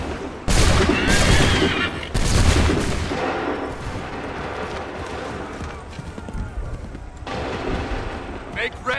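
Musket volleys in the Assassin's Creed III remastered game crack out in loud, broad bursts, several rolling discharges over a battlefield din, with shouted commands between them.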